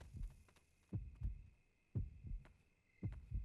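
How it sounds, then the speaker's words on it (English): Fast heartbeat in the night-time horror game Yomawari: Night Alone, a faint, muffled thumping in quick paired beats repeating about once a second over a quiet hum. "we can try and figure out what's making the heart beat so fast"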